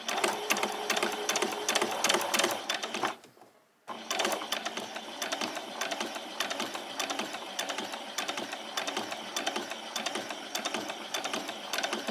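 A sewing machine stitches fabric in rapid, even running bursts, a brief stop and reverse break in the middle before the steady whirring clatter resumes, close and loud.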